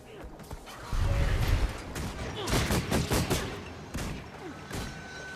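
Pistol fire in the Guild Wars 2 video game comes as rapid, dense bursts of shots mixed with combat effects, moderately loud and running nearly throughout, with someone talking over it.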